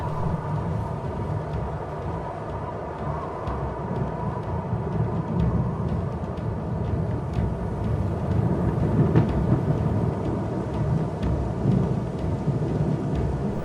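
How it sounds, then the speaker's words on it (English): A thunderstorm rolls over dry savanna grassland, a steady broad roar of rain and wind with deep thunder rumbling beneath, continuous and enveloping for the whole stretch, with no voices. "A storm approaches."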